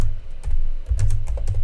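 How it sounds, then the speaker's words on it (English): Someone types one-handed on a computer keyboard, producing a close, irregular patter of clicky keystrokes with short pauses between bursts. "I'm typing with one hand because I have chips in the other"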